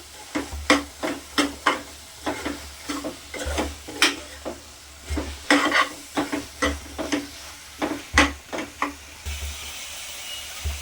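Dal khichdi is stirred in a pan with repeated scraping strokes in an uneven rhythm over a soft sizzle, close and moderately loud.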